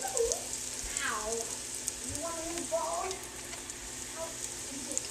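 German pancake batter fries on a griddle with a soft, steady sizzle and crackle, while a voice talks quietly over it.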